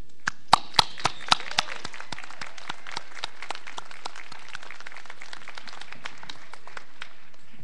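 A graduation ceremony audience clapping: a crowd's scattered applause with several sharp, close claps at the start, gradually thinning out to sparse individual claps that fade away by the end.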